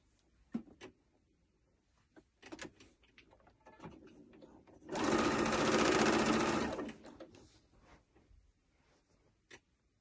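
Sparse clicks and fabric handling lead into a single burst of sewing machine stitching along a peplum top seam, a few seconds of steady whirring before stopping, followed by more quiet clicks.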